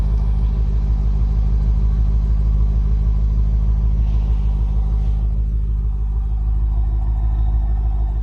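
BMW M5 Competition fitted with an Akrapovic exhaust, idling with a loud, steady deep rumble right at the exhaust, a constant low drone with a slight shift in tone toward the end.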